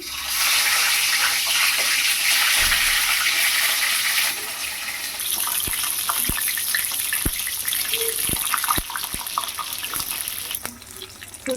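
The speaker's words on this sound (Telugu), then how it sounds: "ఇప్పుడు ఇందులో వంకాయలను అయితే ఫ్రై చేసేసుకుందామండి" Eggplant pieces frying in hot oil for an Andhra-style brinjal curry, giving a steady loud sizzle and hiss that runs throughout, with a few sharp clinks of a utensil stirring in the pan partway through.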